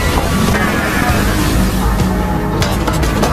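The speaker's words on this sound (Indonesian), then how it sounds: "Seketika kini muncul tornado pasir besar yang langsung membantai banyak zombie di situ." Large sand tornado in the video game Wukong, a loud, continuous roaring rush of wind and blowing sand that fills the whole stretch without pause.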